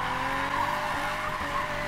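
Car drifting around a corner in the racing video game Need for Speed Payback, a sustained tire squeal and skid over a steady engine drone, loud and continuous with no talking.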